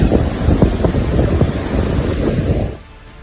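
Strong cyclone winds from Cyclone Dana in Odisha roar and buffet continuously, loud and gusty with wind hitting the microphone, before dropping off abruptly near the end.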